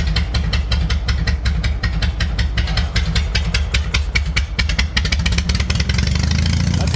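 A 1942 Harley-Davidson XA military motorcycle engine runs close by, a loud, rapid pulsing idle with mechanical clatter that lifts slightly toward the end, with no talking.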